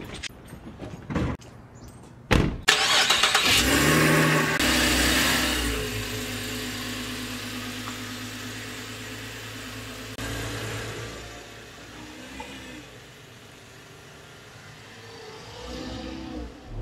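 A car engine cranks with a few sharp bursts, then catches and runs, revving up before settling into a steady drone as the car drives off. The sound is close and fairly loud, with no talking.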